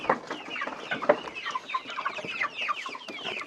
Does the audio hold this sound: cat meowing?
no